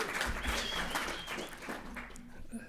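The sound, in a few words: short round of audience applause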